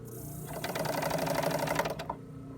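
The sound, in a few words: sewing machine blind stitching a hem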